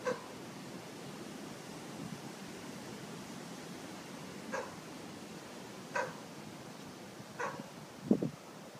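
A few faint, distant dog barks sound one at a time against a steady background hiss, with a quick pair at the end.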